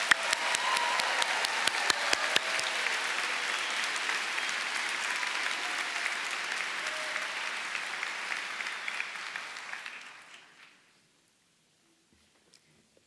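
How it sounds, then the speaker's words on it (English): Audience applause at the Lewis Katz School of Medicine 2023 commencement as MA, MS and PhD degree recipients are honored, broad sustained clapping from a large hall that fades out near the end into silence. "let us applaud the recipients of the MA,"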